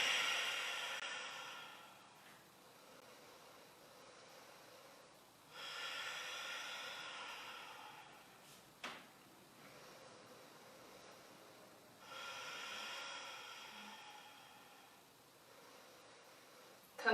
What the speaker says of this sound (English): Come back to that Ujjayi breath, that victorious breath.